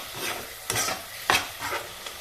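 Spice paste (masala) frying in a pan, heard as a steady soft sizzle broken by several sharp scraping stirs of a spoon against the pan, close and alone.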